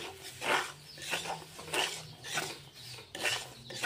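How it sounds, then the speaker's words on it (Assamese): Semolina being fried in refined oil in a kadai, heard as rhythmic rasping strokes of a spoon scraping and stirring the grainy mixture, about five sweeps, close and moderately loud. "চুজিখিনি আকৌ এবাৰ এনেদৰে তেলত ভাজি ল'ম।"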